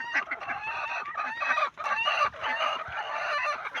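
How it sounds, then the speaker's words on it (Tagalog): Flock of farm chickens kept for egg laying, busy clucking and squawking close by, with a rooster crow rising among the overlapping calls, continuous and fairly loud. "Ito yung mga alaga naming mga manok."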